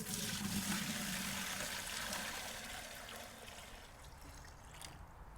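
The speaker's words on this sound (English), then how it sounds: "I have to pour half of this back into here." Liquid organic blueberry fertilizer being poured back into a container, a steady splashing trickle that is fuller at first and gradually thins and quiets as the pour tapers off.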